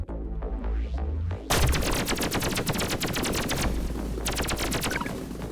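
Rapid automatic gunfire from a trap room in the video game Pathogenic rattles in dense bursts, briefly pausing before resuming loud and continuous. No one speaks.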